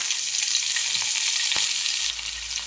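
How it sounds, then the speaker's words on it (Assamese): Onion and green chili frying in hot oil: a continuous bright sizzle and crackle throughout, with a faint clink of a utensil partway through. "এতিয়া মই ইয়াত পিঁয়াজ আৰু জলকীয়া দি দিছোঁ।"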